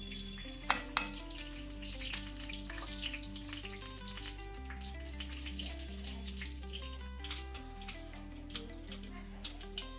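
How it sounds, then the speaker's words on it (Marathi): Steady sizzling and crackling of cumin and mustard seeds in hot oil, running under continuous background music. "जिरा मोहरी तडतडली आहे"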